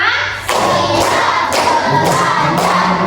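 Classroom group claps a counted rhythm as a warm-up before a lesson, dense close hand claps in steady bursts with short gaps between sets.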